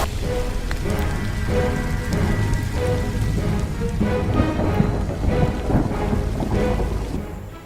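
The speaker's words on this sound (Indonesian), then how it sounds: "Pei, kenapa lu hujan-hujanan begitu?" Heavy rain pours down continuously, hissing and drumming on surfaces up close, while low thunder rumbles underneath for several seconds before the downpour eases slightly at the end.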